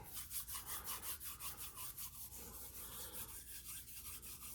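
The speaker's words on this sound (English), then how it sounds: "we're going to rub on a little John the Conqueror root" A piece of John the Conqueror root is rubbed in quick, regular back-and-forth strokes, making a soft rasping scrape that is close and faint, with no talk.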